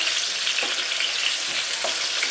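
Pieces of round melon (tinda) fry and brown in a pan, giving a steady, close sizzle with a few faint stirring scrapes throughout and no voices.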